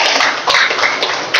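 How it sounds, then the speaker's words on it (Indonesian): A classroom of students claps for a student group, giving a dense, close burst of applause with a few sharper claps standing out. "kita kasih tepuk tangan untuk kelompok"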